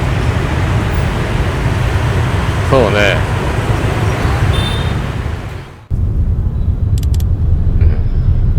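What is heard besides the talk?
heavy road traffic in Ho Chi Minh City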